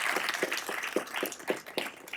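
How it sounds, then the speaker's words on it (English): An audience at a bill signing claps, a modest round with distinct, roughly rhythmic hand strikes standing out over a thinner spread of applause. "Can we give her another round of applause?"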